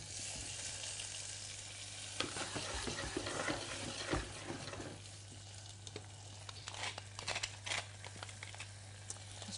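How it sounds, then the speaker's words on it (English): Sugar snap peas sizzle and fry in clarified butter in a pan, a steady close crackle with occasional stirring clatters and a constant low hum underneath. "I'm going to now toss the sugar snap peas in some clarified butter and a little bit of"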